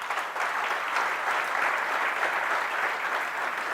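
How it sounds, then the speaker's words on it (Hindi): At a spiritual camp session in Nathdwara, an audience gives hearty applause to welcome an organising team, an even, sustained roll of many hands clapping at moderate distance, with no voices over it. "एक बार जोरदार तालियों के साथ"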